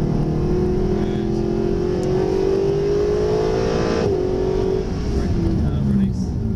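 A Mercedes SLS AMG on a track accelerates at full power, its loud engine tone climbing steadily in pitch before easing off, while an instructor talks over it.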